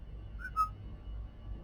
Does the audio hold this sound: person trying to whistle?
yes